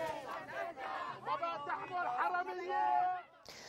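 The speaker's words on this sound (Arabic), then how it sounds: "كما ردد المتظاهرون هتافات ضد حاكم مصرف لبنان." Crowd of protesters in Lebanon chanting slogans against the central bank governor, a dense mass of voices in rhythmic unison, loud and sustained before cutting off abruptly near the end.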